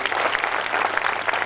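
An audience at a Hindi kavi sammelan poetry gathering claps in honour of guests, a brief burst of dense, steady applause from a seated crowd, moderately loud and without speech.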